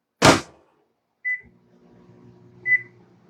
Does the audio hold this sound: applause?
no